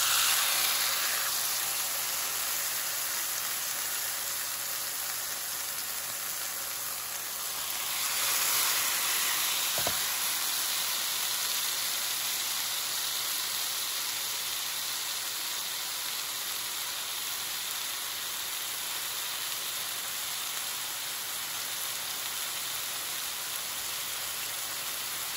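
Beef steak sizzling on a hot cooking surface for Sunday night dinner, a steady broadband hiss running unbroken throughout, with a brief swell near the middle and one short tick, and no talk over it.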